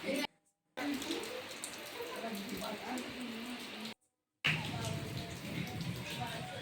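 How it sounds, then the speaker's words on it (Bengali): Steady light rain patters continuously, broken by two brief silent gaps, with faint voices in the background. "এখন দেখুন বৃষ্টি কিন্তু রিমঝিম করে পড়েই চলেছে"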